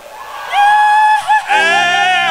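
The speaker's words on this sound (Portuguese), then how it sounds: "Pede o grito da torcida." Toropi supporters chanting and cheering at a nativist music camp gathering, a loud sustained crowd yell with harmonic voices rising, a brief dip, then swelling again.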